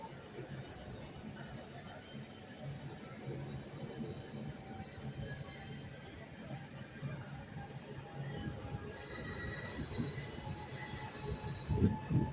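A passenger train runs on the Gandhidham to Palanpur rail line, wheels rumbling steadily on the track. Near the end, high metallic wheel squeals rise and grow louder.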